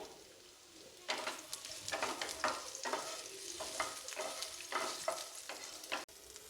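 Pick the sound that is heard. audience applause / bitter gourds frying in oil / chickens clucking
bitter gourds frying in oil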